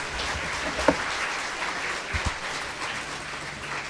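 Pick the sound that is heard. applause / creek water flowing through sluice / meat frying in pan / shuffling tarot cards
applause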